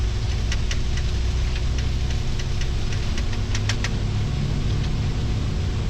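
A Zambia Airways airliner's engines hold takeoff power, heard from the cockpit as a steady, loud, broad roar with faint ticking clicks scattered on top, no voices.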